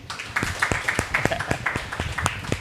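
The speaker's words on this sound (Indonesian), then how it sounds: "Tepuk tangan buat Pak Iwan dan teman-teman" An audience at an economic empowerment training session claps in appreciation, a steady scattering of sharp claps mixed with crowd noise, fairly close and moderately loud, with murmuring voices underneath.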